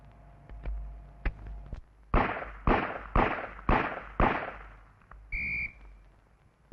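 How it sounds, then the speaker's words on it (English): Pistol shots on a police firing range practical course, five loud sharp reports in steady succession about a second apart, preceded by a few fainter clicks and handling sounds, with a brief electronic tone afterward. "reload, and fire 5 more in the period of 20 seconds"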